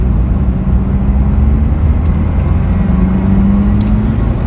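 A 1975 Chevrolet Cosworth Vega Twin Cam pulls hard, its engine note climbing, dropping at a gear change and climbing again. The engine is loud and close, with a steady road roar underneath and no talking.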